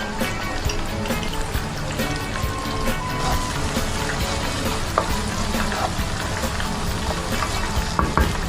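Onions sautéing in a pan for butter chicken with a pinch of salt added: a steady, close sizzle and frying crackle with occasional stirring scrapes and clinks throughout.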